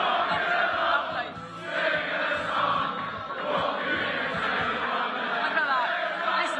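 Lively crowd noise fills an arena at a darts championship evening session, a steady wash of chatter, laughter and cheering that swells and dips without letting up.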